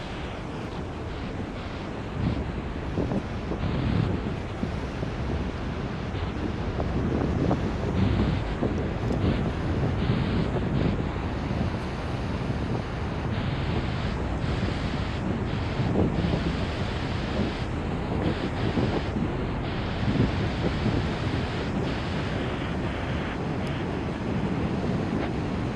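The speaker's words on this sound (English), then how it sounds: "Maybe show you some of this ocean here." Ocean waves wash steadily onto the shore under heavy wind buffeting the microphone, a continuous loud roar with no talking.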